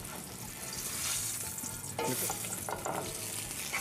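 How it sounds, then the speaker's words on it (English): Fish frying in a pan until golden brown gives a dense, continuous sizzle with faint stirring scrapes, close and fairly quiet, with no talk. "after we cook the fish, get it good and golden brown"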